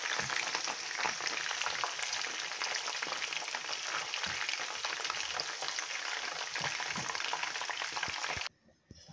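Chicken pieces browning in a pan for Jamaican-style brown stew chicken, a steady loud crackling sizzle that runs unbroken and close, then cuts off abruptly near the end.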